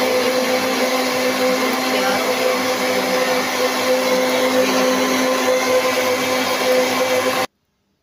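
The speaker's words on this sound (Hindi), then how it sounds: "तो अब हम ये ग्राइंडर में कर रहे हैं" A steady, loud electric grinder whirs continuously while blending pomegranate, sweet lime and banana into juice, then cuts off abruptly near the end.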